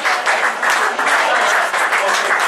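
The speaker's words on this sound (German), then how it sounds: "So, einen Applaus für unsere Tagessieger bitte noch einmal." Dense, loud applause from a crowd at an awards ceremony for the day's winners of a speed-climbing event, steady and continuous clapping throughout with a few voices mixed in.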